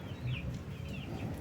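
Backyard chickens clucking nearby in a steady low murmur, with a couple of brief higher squawks rising over the flock's continuous chatter.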